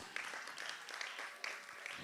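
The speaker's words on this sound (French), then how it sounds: "On applaudit, s'il vous plaît." Steady applause from a crowd at a student prize-giving ceremony, clapping continuously at moderate volume with slightly uneven bursts, no voices over it.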